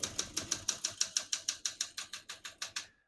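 Keys struck on a 1969 Olympia SM9 vintage portable typewriter, about sixteen crisp, evenly spaced clacks in a steady run, close and alone, ending with a brief soft mechanical whir.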